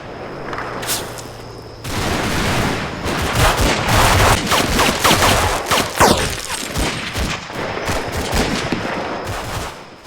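An artillery barrage and gunfire from the wartime strategy game Combat Mission: Fortress Italy roar loudly and continuously, with dense machine-gun bursts and booming blasts layered on each other and no talk.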